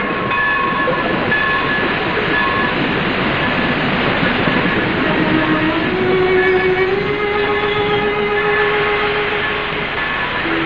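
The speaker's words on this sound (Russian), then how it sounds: "Поезд ждать не будет." A train rumbles steadily along the tracks, loud and continuous, with faint tonal squeals riding over the noise, in a 1937 film.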